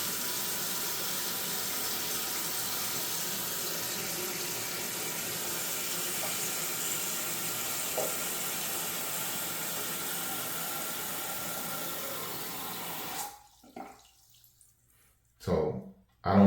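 Toilet tank refilling through a newly replaced fill valve, a steady close hiss of rushing water that runs for about thirteen seconds, then cuts off abruptly, followed by a couple of brief trickles.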